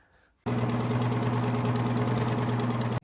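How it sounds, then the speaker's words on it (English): Sewing machine quilting through four layers of an oven mitt, a sudden start into a loud, even motor hum with fast steady stitching that stops abruptly after about two and a half seconds. "As you're sewing on top of all 4 layers, you want to keep in mind that it will work best if you increase your stitch length"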